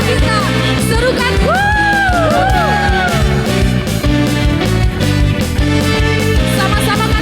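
During a Sunday worship service, a church congregation lets out rising, gliding whoops and yells of praise over loud, driving worship music that continues throughout.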